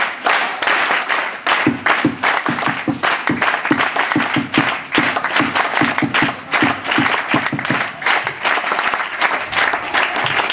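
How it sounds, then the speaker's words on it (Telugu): First-grade schoolchildren in a classroom clap together in a practised rhythmic pattern, sharp, close and loud, repeating in grouped beats for about ten seconds. "విత్ క్లాప్స్ ద్వారా చూపించండి ఒకసారి"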